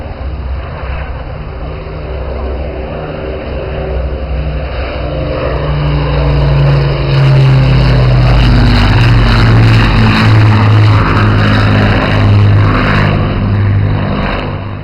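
Avro Lancaster bomber of the Battle of Britain Memorial Flight passing at an airshow, a loud droning multi-engine propeller rumble that swells and holds steady as it flies by.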